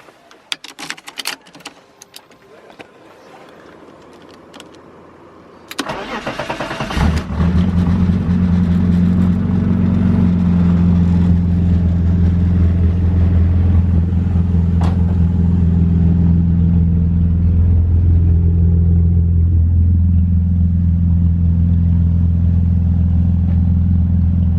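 A BMW E36 with a swapped M54 engine and only half an exhaust starts after some clunking and rattling, then settles into a loud, rough, close idle that rumbles steadily with no talk.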